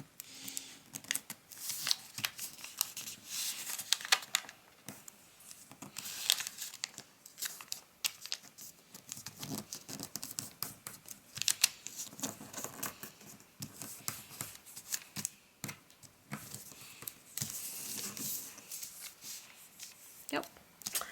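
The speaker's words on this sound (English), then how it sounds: "open it up and then fold it down like so" Paper crinkles and creases while being folded into an origami seal, soft rustling and sharp folds coming in bursts under a person explaining the steps.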